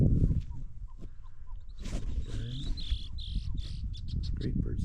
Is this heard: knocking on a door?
no